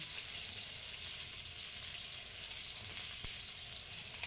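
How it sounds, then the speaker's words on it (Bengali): Pointed gourd (potol) frying in oil with salt and turmeric gives off a steady, even sizzle that holds at a constant level throughout, with no voices over it. "নুন আর হলুদ দিয়ে পটলটাকে আমি ভেজে নিচ্ছি"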